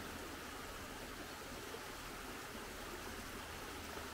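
Water runs through a small stream in a steady, broadband hiss, quiet and even with no distinct splashes or pauses, and no talking over it.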